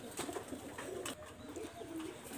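Red-eyed pigeons coo in soft, rolling low calls that repeat through the moment, heard at moderate distance amid quiet background noise.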